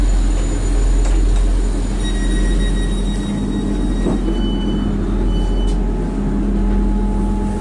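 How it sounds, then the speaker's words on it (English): South Western Railway train bound for Exeter St David's running steadily, with a constant loud rumble and rolling wheel noise throughout and faint squealing tones overhead. "Got on the train, so off we go."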